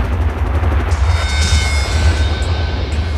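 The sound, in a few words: violent explosion on the Piper Alpha oil platform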